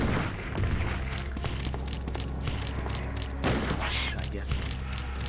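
Gunfire in Resident Evil 2 on nightmare mode: a rapid string of sharp shots and thuds, some clustered close together, with a voice talking over parts of it.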